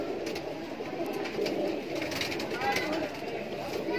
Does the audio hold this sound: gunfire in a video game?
no